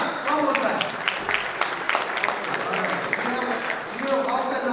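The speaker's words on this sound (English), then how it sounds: "Big applause, please." An audience at an industry conference applauds to welcome a speaker to the stage, a dense, continuous clapping that lasts a few seconds, with voices mixed in beneath.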